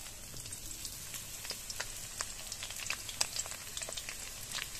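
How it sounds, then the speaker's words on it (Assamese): Fish fries in a pan with sliced onions laid over the top, giving a steady, close hiss of oil broken by dense, irregular pops and crackles throughout, with no voices. "এই যিখিনি মাছ বৰ্তমান মই ফ্ৰাই কৰি আছোঁ"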